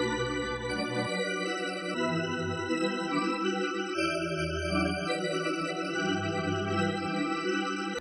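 A Phase Plant granular pad synth plays sustained, layered chords that shift every second or so, with reverse grains and 50 percent pan, dense, bright and reverberant, steady and loud until a clean cutoff at the end.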